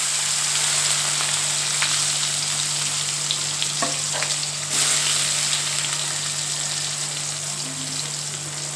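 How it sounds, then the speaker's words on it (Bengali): Chopped onions frying in oil with cumin, bay leaf and dried chilli, giving a continuous close, even sizzle with a few faint clinks, no voices. "ভালো করে আমি পেঁয়াজটা এবার ভেজে নেব, যতক্ষণ না ব্রাউন কালার চলে আসছে ততক্ষণ আমি পেঁয়াজটাকে ভেজে নেব"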